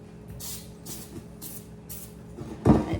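Baker's Joy baking spray hisses into a pan in four short bursts at an even rhythm, then a louder clatter, close and with no voices.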